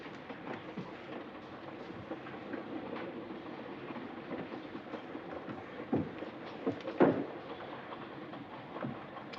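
A train rumbles along the tracks with low, steady clatter and a few sharper knocks near the end.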